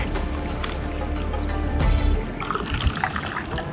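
Dirty water poured through a homemade charcoal filter, a steady broadband rush of liquid that swells near the two-second mark, then breaks into trickling, splashing drips; close and continuous with no talk.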